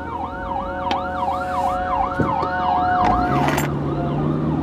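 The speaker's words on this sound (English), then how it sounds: "I love it how people don't pay any attention to the sirens." An emergency vehicle siren wails in a rising and falling pattern as it passes outside a car, loud and close before cutting out, with road noise and no talk.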